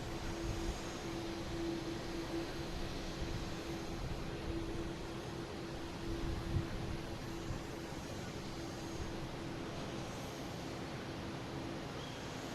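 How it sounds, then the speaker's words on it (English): JetBlue Airbus A220 jet taking off from Boston Logan airport, a steady broadband roar with a faint hum, distant and sustained throughout with no talking. "We got JetBlue taking off to Jacksonville."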